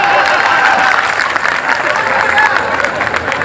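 Audience applause at an all-India Hindi poetry gathering (kavi sammelan) in Sehore, a dense, sustained wash of many hands clapping with crowd murmur and a few cheers, steady and loud throughout.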